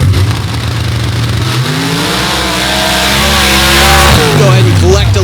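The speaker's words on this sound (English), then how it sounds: "he's going to go ahead and stage the car and just make a tuning run right now" A drag racing car stages on the line at Gore Springs for a tuning run, its engine droning loud and close, then rising in pitch as it revs near the end of the clip.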